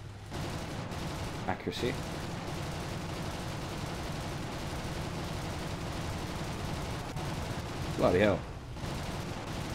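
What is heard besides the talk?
tank guns firing in War Thunder video game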